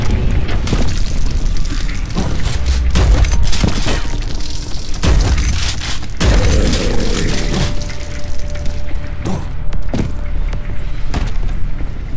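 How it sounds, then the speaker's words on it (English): A super rocket launcher firing repeatedly in the shooter Prodeus, loud booming blasts and explosions piling up over dense, constant game noise and a low electronic hum, with no talking. "Super rocket launcher."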